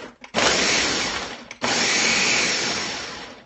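A blender pulses a Black Forest smoothie in a home kitchen, two loud motor bursts, a short one and then a longer sustained whir, with a brief gap between them and no talking.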